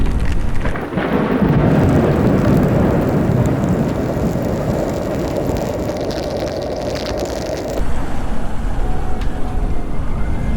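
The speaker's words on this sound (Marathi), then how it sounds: "आता परत एकदा पाऊस सुरू झालेला आहे" Heavy rain drums steadily on a moving car on a road to Harihareshwar, with a constant low road rumble underneath and a brief shift in texture near the end.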